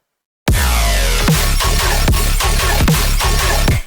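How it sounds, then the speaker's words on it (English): Heavy, slow dubstep drop that bursts in after a moment of silence, with deep, distorted bass wobbles swelling and falling in a steady, loud, lurching rhythm under crisp percussion hits. "The first drop sounds like this."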